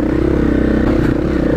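A motorcycle engine drones loud and close, steady and unbroken, with a rumbling low throb and faint rattling clatter riding on top.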